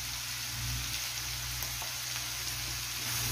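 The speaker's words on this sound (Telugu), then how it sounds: "మష్రూమ్ కూడా ఇలా మంచిగా ఫ్రై చేసేయండి." Mushrooms sizzle and fry in a pan with turmeric, a steady, even crackling hiss with no talking, moderately quiet and close.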